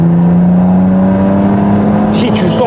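A 300-horsepower BMW 330D E91 diesel wagon accelerates hard, its engine drone rising steadily in pitch from inside the car, loud and continuous, with a brief burst of talk near the end.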